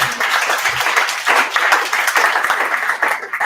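An audience at a Poets & Pints poetry reading keeps up a dense, steady round of clapping, close and lively throughout with no speech over it.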